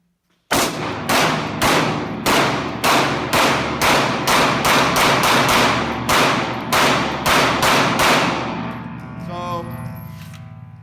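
Rapid string of sharp gunshots from a Glock G17 Gen 5 pistol fed from a Magpul P-Mag magazine with Main Ammo Company ammo, about twenty loud close shots in steady rhythm before the slide locks open.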